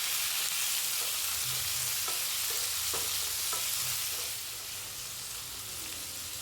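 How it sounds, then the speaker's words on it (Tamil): Ginger and curry leaves sautéing in a pan for curry leaf dosa, a soft steady sizzle with a few light stirring taps and scrapes, close and fairly quiet, no talk. "இஞ்சி, கருவேப்பிலை எல்லாத்தையுமே ஒன்றா சேர்த்து வதக்கி எடுத்துக்கலாங்க."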